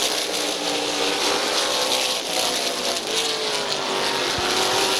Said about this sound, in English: Bobby DeVore and Bob Page still side by side for the race lead